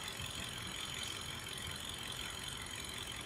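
A car engine idling after a morning start with a steady low rumble and faint mechanical whir, constant and unbroken, recorded close by.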